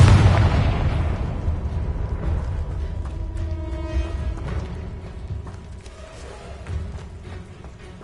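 A Confringo spell in the Hogwarts Legacy video game explodes with a loud booming burst at the start. A rumbling tail follows with faint ringing, mechanical tones and small pops, slowly fading over several seconds.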